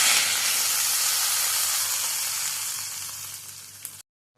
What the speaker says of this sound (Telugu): ఇప్పుడు పప్పులో పోపు వేసుకుందాము.